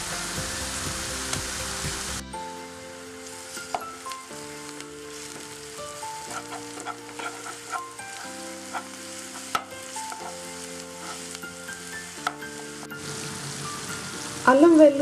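Onions fry in oil in a pan until golden brown, a continuous moderate sizzle with light stirring clinks, steady and close, no speech.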